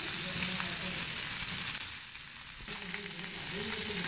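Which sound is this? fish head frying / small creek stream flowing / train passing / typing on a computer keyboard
fish head frying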